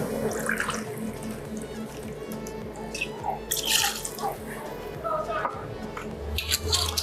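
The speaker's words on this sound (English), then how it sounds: "I'm using Tanqueray today, a house favourite. We'll go 40 millilitres of gin." Forty millilitres of Tanqueray gin trickles into a cocktail shaker in a short, wet, dripping pour heard close up, with faint background voices.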